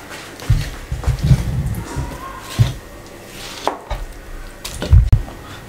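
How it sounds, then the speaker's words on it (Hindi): A knife chops through raw chicken pieces on a board for dhaba-style fried chicken, giving several dull, thudding cuts in uneven bursts, close and moderately loud, with no talking. "ये सारे पीसों को मैं इस तरीके से कट लगा लूँ"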